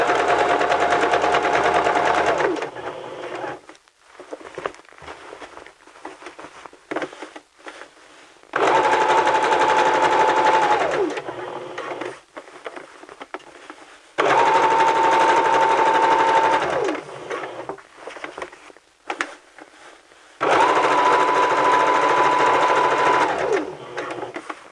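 A sewing machine stitches fabric in four loud, steady bursts of a few seconds each, separated by short quieter pauses while the fabric is adjusted.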